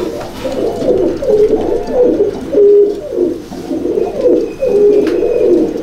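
Teddy pigeons in a loft coo loudly and close by, in repeated rolling phrases at a steady rhythm with no talking.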